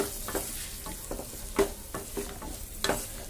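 Egg fried rice being stir-fried in a pan with sauce and squeezed lemon juice: a steady close sizzle broken by a series of scraping, clattering stirs at an uneven rhythm, with no voices.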